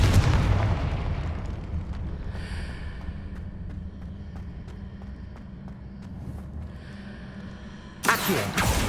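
A Confringo fire spell in Hogwarts Legacy bursts with a heavy boom at the start, then low rumbling and crackling fade out before a sharp, bright blast hits near the end.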